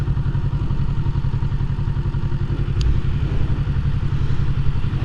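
A motorcycle engine with a stock exhaust idles with a rapid, throaty, lawnmower-like putter, steady and close, with a faint clatter over the top.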